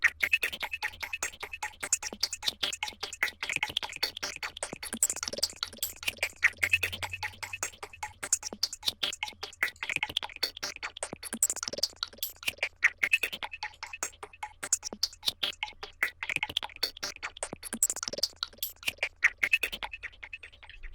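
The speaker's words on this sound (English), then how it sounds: "we just add our delay to get that nice psychedelic effect" A steady, rapid percussion loop of clicky hits with echoing delay repeats, giving a swirling, psychedelic feel throughout.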